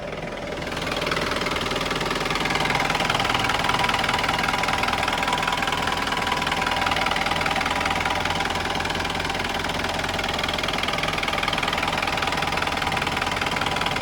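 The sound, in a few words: Mahindra Bolero 2011 diesel engine idling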